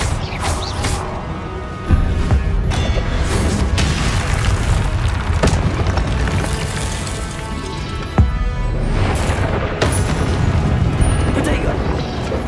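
Repeated Confringo fire spell blasts in Hogwarts Legacy, deep booming explosions landing every couple of seconds amid crackling impacts, loud and close, with a voice talking over the action.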